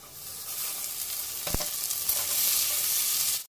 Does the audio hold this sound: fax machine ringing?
no